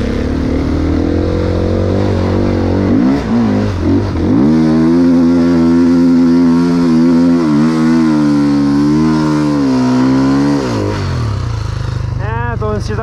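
A new KTM motorcycle engine revs loud and close, its pitch climbing, holding in a sustained wavering drone, then dropping away, with a short sharp rev near the end.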